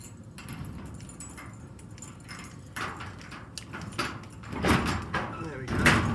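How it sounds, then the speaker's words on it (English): An old, stiff garage door is unlocked with keys, then clunks and rattles as it starts to open. The sounds are faint, scattered thuds and scrapes, growing louder toward the end, with some background voice. "So first up, unlock the door,"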